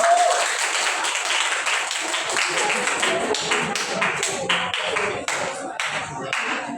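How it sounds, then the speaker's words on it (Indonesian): A classroom audience claps for a student teacher during a microteaching session, a dense, steady round of applause that carries on for several seconds and thins slightly toward the end. "Beri aplaus dulu untuk Mbak Hanifah"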